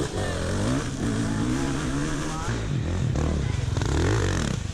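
An off-road motorcycle revs hard climbing a dusty dirt hill at a Harris Bridge race, its engine note rising and falling with throttle, loud and close, while a rider talks over it.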